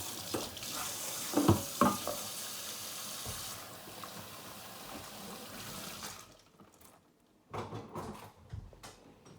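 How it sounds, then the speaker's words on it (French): Hands are washed under a running kitchen tap, a steady rush of water with splashes and handling noises for about six seconds, then the flow stops and a few quieter clatters follow. "Je vais laver mes mains."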